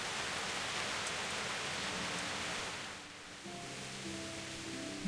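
Steady rain in the medieval open world of the video game Kingdom Come: Deliverance, a dense continuous hiss that softens partway through as a low tonal hum of game music enters underneath.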